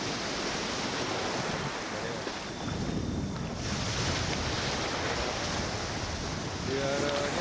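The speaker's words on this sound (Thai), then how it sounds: "เสียงคลื่นทะเลนะฮะ" Sea waves at a beach roll in as a constant rushing surf mixed with wind buffeting the microphone, loud and continuous, with a faint boat engine tone and brief voices in the background.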